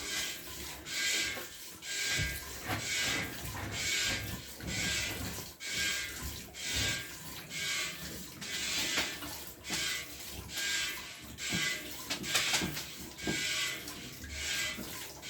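Hand milking of a dairy animal that lets down easily, a steady rhythmic run of squirts and splashes into a pail, close and continuous for the whole stretch with no talking.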